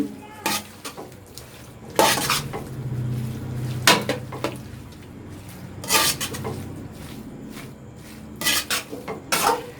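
Metal utensils clatter and scrape against a pan as vegetable noodles are tossed with vinegar off the heat, in a few bursts of knocking and stirring with a faint background hiss.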